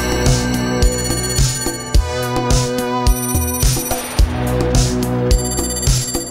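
Electronic telephone-like ringing trills repeat over a steady music track with a thumping beat, sounding like imitated phone rings woven into a song.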